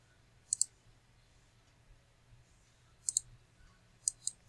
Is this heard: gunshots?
no